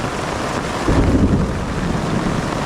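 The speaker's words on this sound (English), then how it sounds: "Alright, lightning just struck like 100 meters from me." Thunder rumbling through a storm of hail and heavy rain by a river, a low rolling boom swelling briefly over the steady hiss of falling rain, with no voices.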